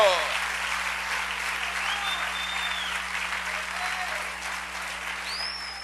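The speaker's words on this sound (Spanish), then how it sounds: "Fuerte el aplauso, hermano." Loud, sustained applause from a church congregation fills the whole stretch, steady clapping with crowd noise and a faint low hum underneath.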